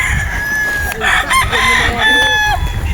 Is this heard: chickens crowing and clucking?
yes